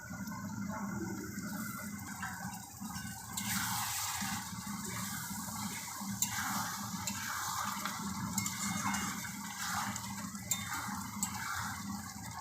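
Water poured into a pan of fish and yogurt curry, a continuous splashing rush of liquid that swells partway through and keeps on steadily.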